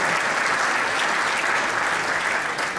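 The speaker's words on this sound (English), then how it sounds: "yes, you can applaud if you do that" A conference audience at an opening session applauds steadily, a dense, even wash of many hands clapping throughout that tapers slightly at the very end.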